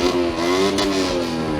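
A motorcycle engine revs hard at a bike show, its mid-pitched roar rising and holding with loud close tone and brief clattery bursts, no speech.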